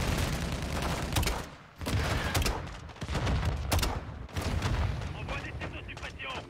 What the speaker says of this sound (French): Envoie des tirs de suppression.